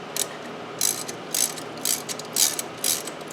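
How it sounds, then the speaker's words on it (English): Ratchet clicking as bolts are tightened on the front brake caliper of a 2007 Honda Accord, several short bursts of sharp, close ratcheting with brief pauses between strokes. "Now I'm just tightening up these bolts that hold the caliper on"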